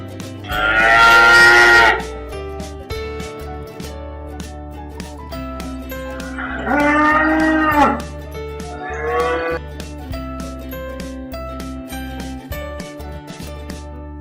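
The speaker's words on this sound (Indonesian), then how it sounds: "Sapi perah." A dairy cow moos three times, a long low call at the start, another in the middle and a shorter one near the end, with steady background music between them.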